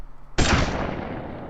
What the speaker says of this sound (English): nice loud gunshot